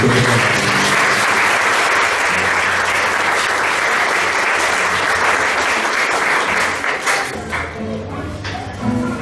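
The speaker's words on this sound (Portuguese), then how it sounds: "eu convido você a aplaudir a palavra de Deus" A church congregation at a Catholic prayer gathering applauds after a scripture reading. Dense, steady clapping fills the space for most of the clip, then thins and wavers slightly near the end.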